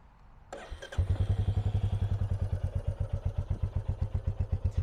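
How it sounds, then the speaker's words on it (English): A 2022 Royal Enfield Meteor 350 motorcycle is cranked on the starter and fires up, settling into a steady, close, loud single-cylinder thump with an even, rapid pulse. "These really have that classic thumper exhaust note with that big 350 firing away."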